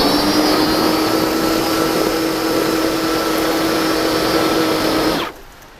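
A Makita DUX60 multi-tool fitted with a sweeper attachment runs loud and steady for about five seconds with a constant high whine, then cuts off abruptly, leaving a quiet background.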